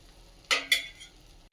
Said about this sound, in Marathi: गोल्डन ब्राऊन कलर येईपर्यंत छानपैकी ही पोळी आपल्याला शेकवून घ्यायची आहे